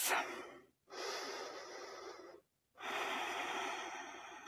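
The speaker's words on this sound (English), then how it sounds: "we'll take a couple of breaths here" Deep breathing during a prenatal yoga session: two long, airy inhale-exhale breaths, close and clear, separated by brief silences, with no talking.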